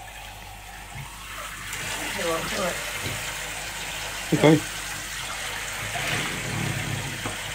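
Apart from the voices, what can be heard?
shower water hosing down a French Bulldog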